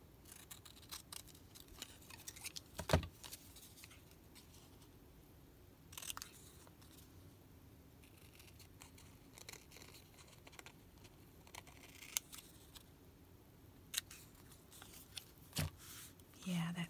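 Scissors trimming around a paper card make small, sparse snips and crisp cuts, quiet and close, with short pauses between them.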